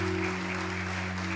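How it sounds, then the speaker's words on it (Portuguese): A congregation at an evening prayer service claps for Jesus in a steady, dense wash of applause, with a low electrical hum running underneath and no voices standing out. "Você pode dar mais um aplauso para Jesus, bem forte, porque Ele merece."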